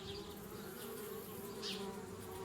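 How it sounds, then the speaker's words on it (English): Bees buzz continuously around a tree house in the point-and-click video game Anna's Quest, a steady droning hum with a few louder passes as insects fly near. "Darn bees, trying to move into our tree house."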